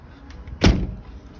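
Motorhome security door on a Jayco Freedom being locked, a single sharp metallic clunk up close, brief and loud against quiet surroundings.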